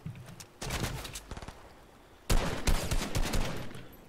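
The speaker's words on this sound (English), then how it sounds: "Someone just shot at me." Rapid automatic gunfire in the video game Fortnite comes in two bursts: a shorter volley of quick cracks, a brief lull, then a louder, denser stretch of rattling shots.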